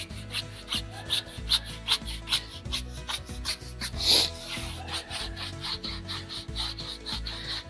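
A detail brush scrubs the brake calipers of a Mercedes SL550 in quick, rhythmic bristle strokes, close up with a soft rasping texture and a brief louder scrape midway, no talking.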